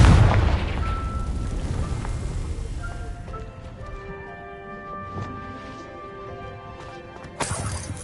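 Confringo fire spell from Hogwarts Legacy blasts with a loud, close boom at the start, its rumble tapering off over several seconds beneath ringing game tones, then a second sharp burst near the end.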